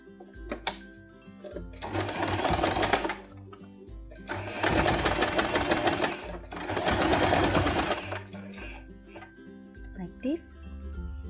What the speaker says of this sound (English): with the right sides together, I will stitch this